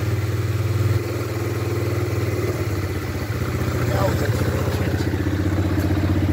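A nearby 125cc ATV engine with a carbon sport exhaust idles with a deep, throaty exhaust rumble, steady and loud, with a faint voice underneath at times.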